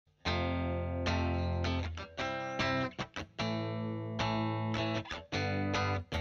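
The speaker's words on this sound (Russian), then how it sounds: "Дисторшн или, как у меня, овердрайв." An electric guitar through an overdrive pedal plays heavily distorted, sustained chords and notes with an overdriven, saturated tone, alone and fairly loud.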